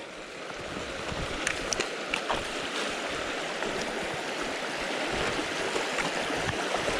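Steady rushing and splashing of a cold stream in the Sipsey Wilderness as someone wades across, with scattered sharper splashes from footsteps in the water, close and fairly quiet with no talking.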